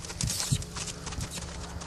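A horse canters in an outdoor riding maze, its dull hoofbeats thudding in an uneven rhythm amid wind and rustling, fairly close and muffled.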